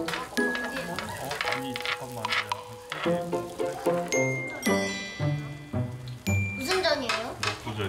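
Mung bean pancakes frying in a pan at home, a sizzle under busy kitchen clatter and voices talking.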